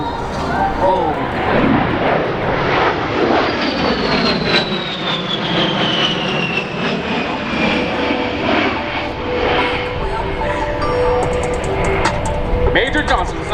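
An A-10 Warthog attack aircraft passes over an airshow, its jet engines a loud, continuous roar with a sweeping pitch shift as it flies by, while an announcer talks over it.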